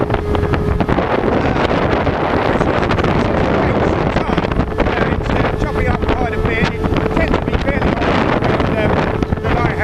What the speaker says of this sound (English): Well, we've got easterly wind.